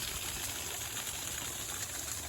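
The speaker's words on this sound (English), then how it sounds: "That's how much water's going through here all the time." Water rushes down a mountain stream, a steady broadband hiss and gush heard close and fairly loud, continuous without pauses or voices.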